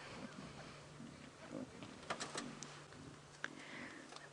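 Lion cubs snarling and growling as they fight over a buffalo carcass on a sunset safari drive; the rough growls are faint and distant, with a few brief sharper clicks and knocks.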